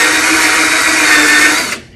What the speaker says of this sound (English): I'm gonna drill some holes so that it will have good drainage.